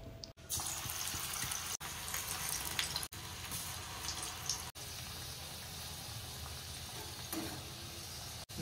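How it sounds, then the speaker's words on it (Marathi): Bhajji batter fritters fry in hot oil in a wok, making a steady broadband sizzle heard close up, interrupted by several brief dropouts where the sound cuts out. "मंद आचेवर आपल्याला हे तळून घ्यायचं आहे."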